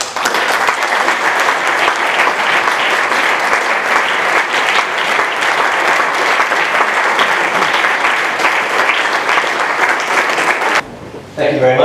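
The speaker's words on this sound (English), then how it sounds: "Please can we give them a round of applause" A crowd at a borough mayor ceremony applauds voluntary heroes, a loud, dense and steady clapping that holds for about eleven seconds before cutting off abruptly, with voices faintly mixed in.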